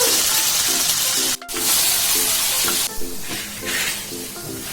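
Paneer sizzles and fries in butter in a pan, a steady loud crackle with rhythmic stirring scrapes throughout and a brief pause in the middle.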